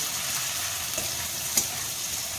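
Garlic and onion fry in a pan with an even, close hiss of sizzling oil, marked by a couple of faint stirring taps.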